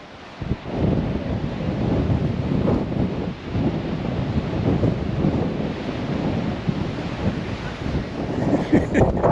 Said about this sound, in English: it is gale force winds and freezing cold